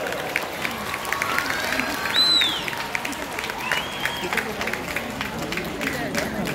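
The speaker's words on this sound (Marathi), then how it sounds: "वाजवा जोरात टाळ्या." Audience applause fills a school prize-giving function hall in Redi, a steady broadband patter of many hands clapping together with crowd murmur, sustained throughout and swelling briefly near the middle.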